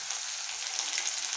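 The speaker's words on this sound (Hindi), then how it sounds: "बस अब प्याज का जो है इसमें तड़का लगा दूंगी" Onions sizzling and crackling in hot oil, a steady bright frying hiss throughout.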